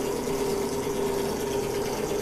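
Homemade blower separating cacao husks from nibs on a cacao plantation, a steady motor hum with a constant tone and airy whoosh running without a break, close and moderately loud, no voices.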